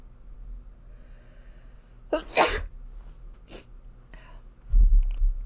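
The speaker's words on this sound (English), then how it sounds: "I gotta sneeze." A single sharp sneeze bursts out, followed by a softer second snort and sniff, with a low thump near the end in an otherwise quiet room.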